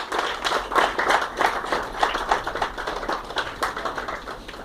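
An audience at a poetry collection book launch applauds a welcomed guest, with distinct individual claps forming a steady, fairly close round of applause that stays even throughout.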